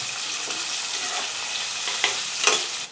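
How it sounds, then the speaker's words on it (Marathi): Onion sizzles and crackles steadily in hot oil in a pan for a prawn rice dish, a continuous close frying hiss with a couple of brief stirring scrapes. "तेल थोडंसं गरम झालं की त्याच्यात आता आपण कांदा भाजूया आता कांदा आपण थोडासा फ्राय करून घेऊया"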